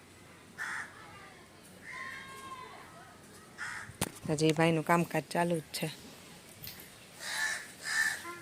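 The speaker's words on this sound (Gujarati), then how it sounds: "જુઓ તમે, કાગડા બોલે છે." Crows caw at intervals, some near and some farther off, scattered through the scene. Someone speaks briefly in the middle, partly over the calls.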